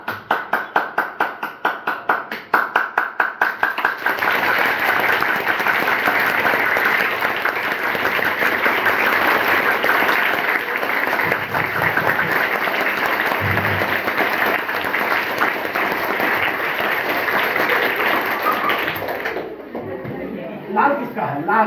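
Audience at a school gathering breaks into applause, starting with a few rhythmic claps and swelling into sustained loud clapping, which cuts off near the end as talking resumes.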